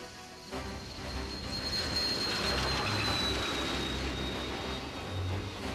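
A Union Pacific 4-8-4 Northern steam locomotive, number 844, rumbles steadily past at close range, with a heavy low roar, rhythmic clanking and a thin high metallic whine running throughout.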